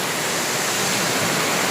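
Steady, dense roar of rushing, slightly murky water from a waterfall, loud and unbroken, with no voices.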